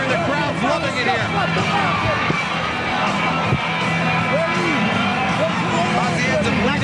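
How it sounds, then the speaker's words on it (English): A boxing arena crowd at a Roy Jones Jr. versus Vinnie Pazienza IBF super middleweight title fight roars in a steady dense wash of cheering and babble, with a commentator talking over it throughout. "the crowd's loving it here"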